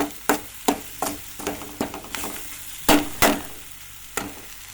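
Small onions, sliced onions, cumin and curry leaves frying in a little oil, a close sizzle broken by a series of sharp stirring scrapes and spatula knocks against the pan.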